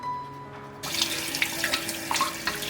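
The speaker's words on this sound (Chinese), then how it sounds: "焯好了之后，我们捞出来清洗干净。" Blanched pork tripe is rinsed under a running kitchen tap. The water starts abruptly and runs steadily close by, with splashing and handling sounds as the tripe is washed.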